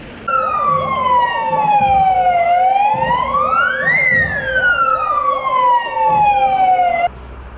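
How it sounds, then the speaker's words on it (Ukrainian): Loud, close fire engine sirens wailing at a rescuer's funeral, one sweeping slowly up and down while another whoops rapidly, overlapping continuously with engine rumble underneath. "В пам'ять про загиблих рятувальників лунали пожежні сирени"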